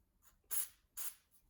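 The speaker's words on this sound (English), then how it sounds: "bit of release spray on it" Two short hissing bursts of aerosol release spray onto a small screw on a Raleigh Chopper Mk3 bicycle, close up, separated by a brief pause, in an otherwise quiet space.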